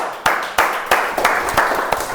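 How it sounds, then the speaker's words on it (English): A small club meeting audience gives a short, sparse round of applause. Claps land in uneven bursts, each one fairly close and distinct, for about two seconds. "Let's give a big round of applause."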